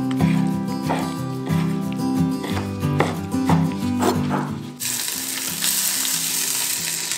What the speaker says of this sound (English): We're gonna add a tablespoon of olive oil to saute the onion in.